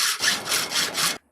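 A hand saw cuts through 1/8 inch aluminum stock from Home Depot, a steady rasping back-and-forth of about five strokes that runs loud and close before stopping abruptly.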